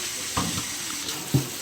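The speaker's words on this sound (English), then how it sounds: "We're just gonna run some cold water over them like that." Cold tap water runs from a kitchen faucet over noodles in a colander, a soft close splash with two brief louder spurts as the stream shifts, no talking.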